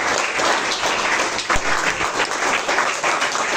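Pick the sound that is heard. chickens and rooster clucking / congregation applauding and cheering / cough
congregation applauding and cheering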